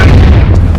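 A toy bomb goes off during a Nerf gun battle, giving a loud, booming burst that fills the short moment with low, heavy rumble and no voices over it.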